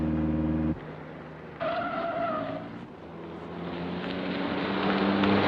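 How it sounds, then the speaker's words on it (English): A car being driven in pursuit in a 1940 film, its engine droning steadily and rising toward the end, with tire sounds and a sudden shift in tone partway through, and no voices over it. "There's a car following us."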